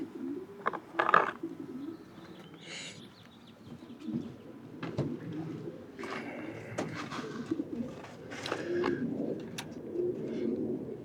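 Racing pigeons coo repeatedly inside a loft's breeding section, soft low rounded calls overlapping at close range with a few brighter chirps, no talking.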